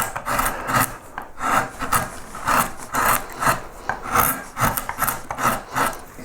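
A carving gouge cuts a pierced wood relief of a yellow flag iris in about a dozen close, rhythmic scraping strokes, loud and alone.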